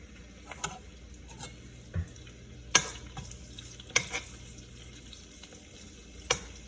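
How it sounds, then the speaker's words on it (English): Bacon fries in a pan for spicy bacon and egg fried rice, giving a steady low sizzle broken by a few sharp clinks and knocks, with no one talking. "you basically just gotta wait till the bacon fries"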